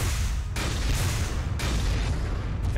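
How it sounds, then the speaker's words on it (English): Mech double cannon fire in the strategy video game Front Mission 4: heavy booming blasts roll one after another, loud and dense, with no voices over them. "Double cannon."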